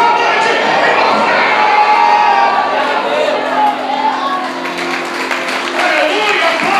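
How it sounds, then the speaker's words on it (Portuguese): A church congregation at an evening service shouts and cheers together in praise, a loud sustained crowd roar of many voices with scattered whoops and clapping. "Dá um grito de glória nessa noite."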